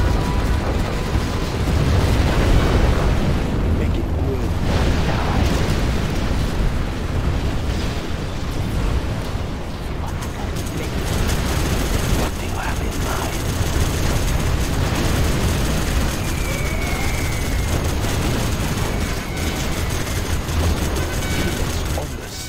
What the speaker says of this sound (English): We have launched our nuclear missiles.